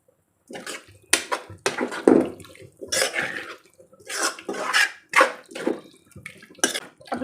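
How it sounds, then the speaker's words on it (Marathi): About a tablespoon of water splashes and sloshes into a pan of paneer chilli in a series of short bursts, close and fairly loud, with clinks of cookware between them. "यामध्ये आपल्याला घालायचं आहे एक साधारणतः एक टेबलस्पून पाणी"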